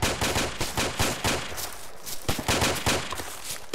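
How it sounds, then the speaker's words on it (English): Rapid bursts of mortar and gunfire in a military video game, a dense run of sharp cracks and thumps at an uneven rhythm, with no voices over them. "6-1s at the FST are firing mortars as we speak, in case you hear anything"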